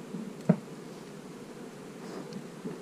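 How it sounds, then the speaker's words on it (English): Bees hum faintly inside a wooden beehive box during a hive split, a low soft buzz under one brief knock or rustle, with no voices. "There's plenty of bees in this box."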